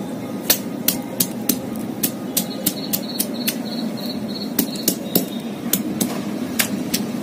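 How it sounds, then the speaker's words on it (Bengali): Ginger and green chillies are ground on a stone slab with a hand stone, giving a steady series of sharp, close knocks and scrapes at a regular rhythm, with no talk. "কাঁচা লঙ্কা আর আদা একসঙ্গে আমি বেটে নিচ্ছি।"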